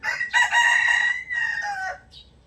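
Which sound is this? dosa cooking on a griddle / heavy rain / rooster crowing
rooster crowing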